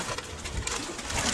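Pigeon cooing softly while held in a hand, a brief throaty coo close up against rustling and noisy background.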